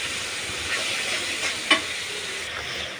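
Egg curry spice paste sautéing in a pan, a steady broad hissing sizzle with a faint stirring scrape and one brief sharper clink midway.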